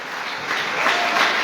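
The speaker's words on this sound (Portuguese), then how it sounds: "louvai ao Senhor Jesus com uma salva bem forte de palmas" A church congregation breaks into steady applause, a dense wash of many hands clapping together that swells slightly toward the end.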